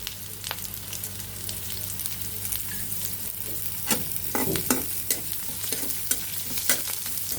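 Radhuni and nigella seeds hit hot oil and sizzle loudly and close, with a steady frying hiss broken by stirring scrapes and a few sharper crackles.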